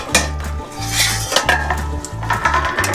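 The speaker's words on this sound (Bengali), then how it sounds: "বন্ধুরা এবার আমি একটু ঢাকাটা তুলে দেখে নেব" Lid lifted from a pot of egg curry with potatoes on medium heat, with metallic clanks and a ringing, repeated rattle of the pot and lid over a soft simmer, close and fairly loud; no talking.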